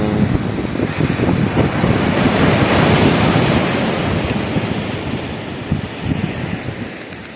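Ocean surf washing onto a beach in the morning, a steady broad roar of breaking waves with gusts of wind rumbling across the microphone, continuous and fairly loud with no voices.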